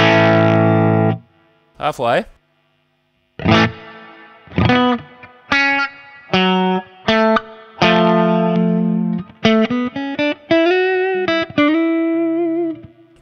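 Electric guitar played through a T-Rex Fat Shuga boost and reverb pedal on its hall reverb setting, a series of sustained chords and single-note phrases with distorted tone and lingering tails, separated by brief gaps, with a short spoken word.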